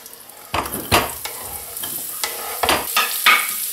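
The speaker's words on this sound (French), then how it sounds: "Une fois les échalotes émincées, les faire revenir avec une cuillère de graisse" Sliced shallots fry gently in a spoonful of fat over low heat, a soft continuous sizzle broken by several louder scraping stirs of a utensil in the pan, close by, with no talk.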